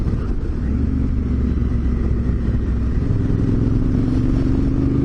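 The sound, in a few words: oncoming traffic passing on a coastal road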